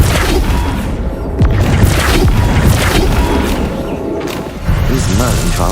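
Spell impact from a wizarding video game, heavy booming blasts and crashing hits layered under dense game music and effects, loud and continuous with a sharper burst near the middle.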